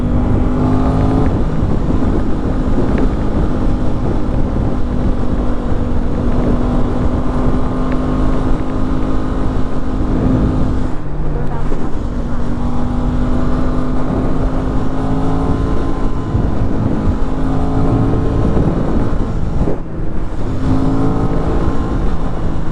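An Aprilia RS660 motorcycle cruises on a highway HOV lane at steady speed, its engine droning continuously under heavy rushing wind noise, close and loud throughout.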